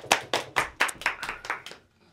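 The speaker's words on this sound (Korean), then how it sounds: "박수 치고 시작할게요." Hands clap sharply about nine times at a steady, quick pace, each clap distinct and close, then the sound stops; a Bible study class is the setting.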